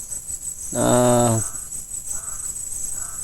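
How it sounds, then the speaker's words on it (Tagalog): A single loud, harsh crow caw rings out close by, followed by quieter ambient noise and faint distant calls. "Kanina pa yung uwak na yan. Kasunod sa amin."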